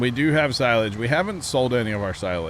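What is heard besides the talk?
None of the usual background noises is heard.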